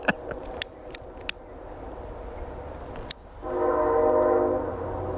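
Train passing near a rural homestead with a few sharp clicks at first, then a steady rumble swelling as the horn sounds in a sustained, fairly close blast before easing off.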